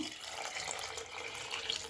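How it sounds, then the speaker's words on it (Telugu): Water runs steadily into a cooking pot of cabbage, a continuous hissing splash with no break and no voices. "మనం క్యాబేజీ నిండేంత వరకు వాటర్ వేసుకుందాము"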